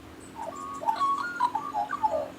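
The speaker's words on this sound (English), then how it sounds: "You notice many of the birds and now are singing and calling out." Birds singing and calling in the Gariwerd ranges: a run of soft, tonal, warbling notes, moderately near, over a quiet background hum.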